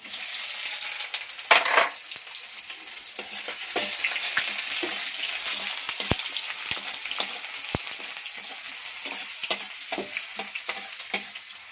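Chopped onions and bay leaf fry in hot mustard oil in a kadai, a continuous bright sizzle broken by sharp spatters and clicks of stirring, close up with no talking.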